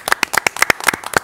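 A small group claps in a quick, uneven patter of sharp hand claps for just over a second, close and clear, with no voices.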